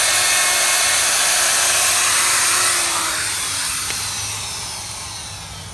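A router cuts into a wooden door to form a doorknob hole, its loud, steady high whine staying close and continuous, then easing and fading slightly toward the end, with no talking.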